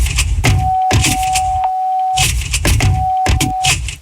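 A car's seatbelt warning tone sounds twice, steady and electronic, each held for about a second, amid clunks and rustling from inside the car.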